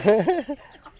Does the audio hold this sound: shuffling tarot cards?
no